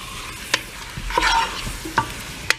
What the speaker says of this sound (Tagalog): Hahaluin natin hanggang sa